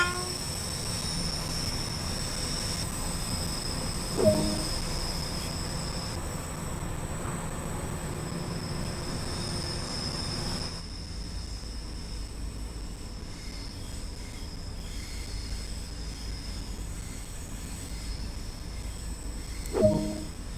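A train in the video game Train Sim World 2, on the Cathcart Circle route, rumbles steadily with a continuous mechanical drone, and two short horn-like blasts sound near the start and end.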